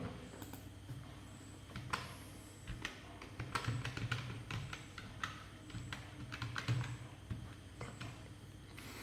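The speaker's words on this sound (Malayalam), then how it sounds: "ഞാൻ എൻ്റെ താഴെ ടൈപ്പ് ചെയ്യണം" A password typed on a computer keyboard while setting up JioPC on a Jio set top box: irregular, quiet keystroke clicks in small bursts over about nine seconds, with no talking.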